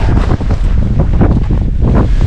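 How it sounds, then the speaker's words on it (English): Strong wind buffets the microphone in heavy, low rumbling gusts, loud and constant for a couple of seconds, outdoors on the ice in extreme cold. "She's really windy out."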